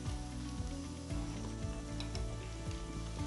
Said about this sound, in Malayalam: ഇനി നമുക്കിതിലേക്ക് നമ്മൾ അരിഞ്ഞു വെച്ചിരിക്കുന്ന ചെറിയുള്ളി ഇട്ട് കൊടുക്കാം.